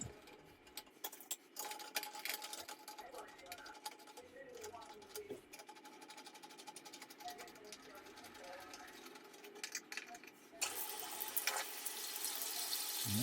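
A bathtub being filled from the tap after a drain unclogging job, heard as a faint, steady running-water hiss that grows louder and fuller near the end, with a person talking over it.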